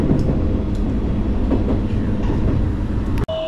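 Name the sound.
train riding from Arita station toward Kōhoku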